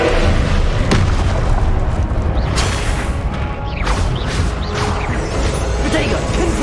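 Confringo explosion spell in the video game Hogwarts Legacy, loud booming blasts and crashes over a continuous roar of combat effects, with a player's voice shouting spells.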